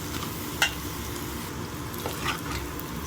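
Cooked rice is tipped into a hot pan of egg and stir-fried for egg fried rice, a soft steady sizzle with scraping stirs and a couple of sharp spatula knocks against the pan.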